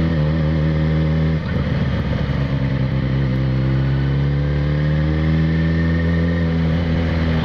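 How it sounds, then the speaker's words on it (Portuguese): A Yamaha XJ6 600cc motorcycle engine rumbles steadily while riding, a loud, close, constant drone with a brief shift in tone as the revs change, with no voices over it. "Olha o ronquinho da XJ, tá bonito."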